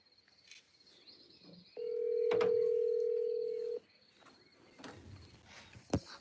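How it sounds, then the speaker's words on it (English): A steady telephone dial tone rings out for about two seconds, then stops. A short electronic beep comes near the end, all fairly close with faint room noise and no talk. "Hender, pick up your phone."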